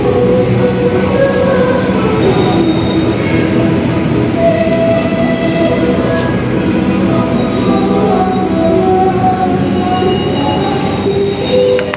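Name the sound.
Sri Tanjung train braking into Madiun station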